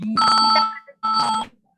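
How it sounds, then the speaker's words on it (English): A phone ringtone plays two loud, even rings of tonal chimes, each lasting about half a second, with a short gap between them and nothing else heard. "Your phone is ringing, Smita Mataji."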